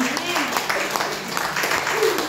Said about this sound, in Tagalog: Palapakan natin ang Panginoon